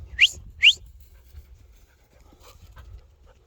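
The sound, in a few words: dog panting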